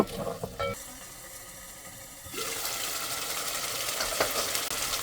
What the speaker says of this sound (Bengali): সব মশলা ভালো করে ভেজে নেব পরে তেল ওঠা পর্যন্ত